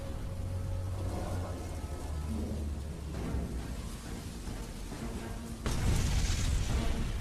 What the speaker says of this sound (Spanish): la explosión ilumina la noche provocando enormes llamaradas